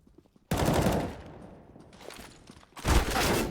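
Rapid bursts of gunfire on Dust2 in a CS:GO pro match, a long loud volley followed by quieter scattered shots and a second sharp burst, close and without talk.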